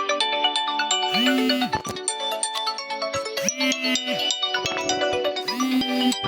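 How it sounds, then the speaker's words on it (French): A mobile phone ringtone plays loud and close, a repeating melodic tone pattern with chiming notes that loops several times, no talk. "Et il y a mon pote qui m'appelle."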